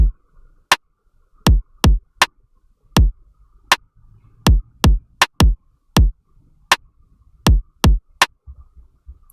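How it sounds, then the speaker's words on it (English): A drum beat from an electronic music remix, made of crisp, isolated kick and snare or rim-shot hits in an uneven, syncopated pattern. Each hit is sharp and punchy with short gaps of silence between. "drums sound like this"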